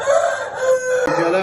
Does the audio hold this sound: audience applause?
no